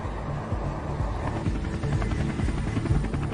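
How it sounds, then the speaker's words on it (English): An Apache attack helicopter flies toward Karbala in wartime Iraq, its rotor thumping steadily and loudly as a continuous drone dominates throughout. "30-year-old Army pilot David Williams flies his Apache attack helicopter toward Karbala"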